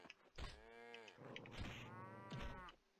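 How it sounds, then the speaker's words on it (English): Cows in the video game Survivalcraft 2 giving two or three drawn-out moos in quick succession, close and clear, each a low bellowing call with a rising and falling pitch. "sounds like they're killing cows"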